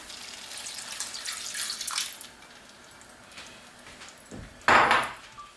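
Water splashes into a pot of curry mackerel in tomato sauce, a soft faucet-like pour that ends in a louder, brief burst near the close.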